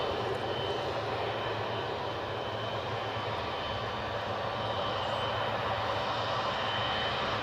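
A Ryanair jet taxis at Newcastle airport, its engines giving a steady, broad roar heard from some distance, holding evenly without talk.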